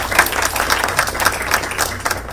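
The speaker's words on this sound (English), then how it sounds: "So let's give a big applause to them." A crowd applauds at a high-level dinner with a dense, steady wash of clapping that stays fairly close and loud for a couple of seconds.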